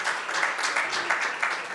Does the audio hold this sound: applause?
yes